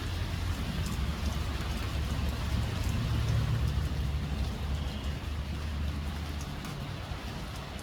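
Steady rain outdoors near a flowing creek, a constant close hiss of drops with a low rumbling undertone, continuous for several seconds and easing slightly toward the end, no speech.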